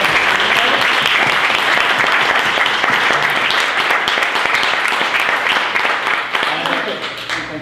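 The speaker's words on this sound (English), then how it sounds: "Can I have another round of applause," Sustained, loud applause from a lecture audience at the close of a talk, dense and steady throughout before tapering slightly near the end.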